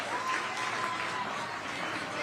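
A crowd at 9 Mile Brewing claps and cheers in a steady, dense wash of applause that holds at an even level throughout.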